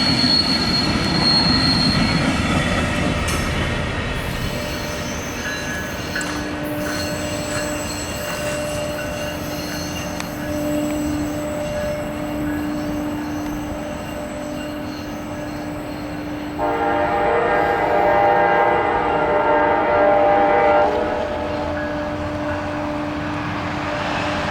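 Westbound Amtrak passenger train 353 leaving Battle Creek for Kalamazoo, Michigan, rumbles past with sustained high metallic wheel squeals and a horn-like tone, loud and continuous with no talking.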